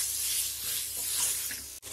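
Masala and tomatoes sautéing in a pan for Punjabi-style chicken gravy, a steady close sizzle and hiss with faint stirring scrapes and a brief dropout near the end.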